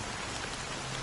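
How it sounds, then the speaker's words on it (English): Steady rain falls in the video game Honkai Star Rail, a dense, even hiss of drops that carries on unbroken with no voices over it. "How long has this rain been ongoing?"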